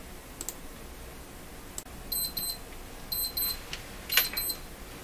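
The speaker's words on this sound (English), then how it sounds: "My coffee break alarm is going." A coffee break alarm beeps in a workshop during tube radio rewiring, giving short repeated electronic chirps in several bursts, fairly faint and clear against quiet room noise with no talking.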